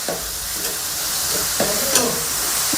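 Grated carrots roasting in ghee for gajar halwa, a close, steady sizzle and crackle with occasional stirring scrapes, no voices.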